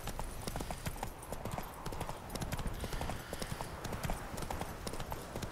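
Horses' hooves clip-clop steadily in The Witcher 3, a dense, continuous patter of several animals close by, with faint background ambience and no clear speech.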